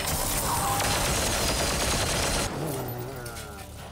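A sustained, dense burst of weapon fire from the turn-based game Chaos Gate Daemonhunters in the Warhammer 40K setting, loud for a couple of seconds, then cutting to a quieter, lingering tail.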